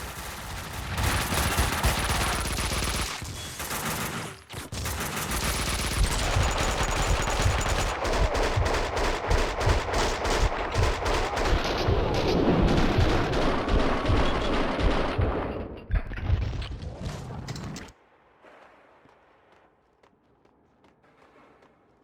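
Dense, sustained gunfire in Max Payne 2, loud overlapping automatic bursts and single shots for most of the stretch before cutting off to a quiet tail.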